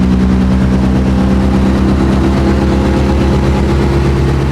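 Several Honda race cars idle together at a racetrack, a loud, close, steady low engine burble with a throbbing rhythmic pulse and no talk over it.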